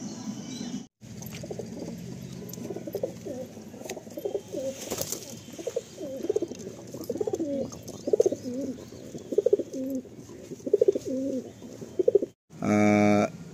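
Chennai breed pigeons coo in a repeated rolling rhythm close by, a steady series of low throaty calls through most of the stretch, with brief faint background noise and a short burst of another sound at the end.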